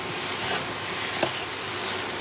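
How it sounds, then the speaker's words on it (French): Fresh tagliatelle tossed together with ribbons of courgette in a pan, a steady soft sizzle with faint wet stirring and one brief scrape, close and without talk. "On va bien mélanger les tagliatelles fraîches avec les tagliatelles de courgettes."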